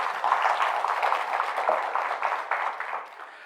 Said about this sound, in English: he certainly deserves a bigger round of applause